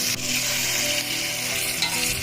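Meat and onions frying in a pan for Uzbek-style plov, a steady close sizzle with faint stirring scrapes running throughout, no talk.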